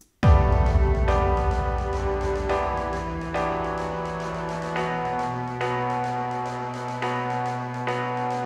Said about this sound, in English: So I threw a cello in, and that sounds like this.